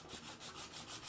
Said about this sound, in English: we'll take some sanding cloth and we'll sand up this